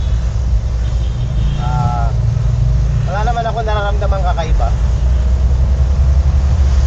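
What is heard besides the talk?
camper van engine running on road test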